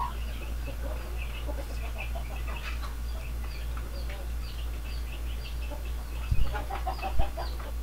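Hens clucking and chattering continuously nearby, with a rooster and other fowl calls mixed in over a low, steady background hum.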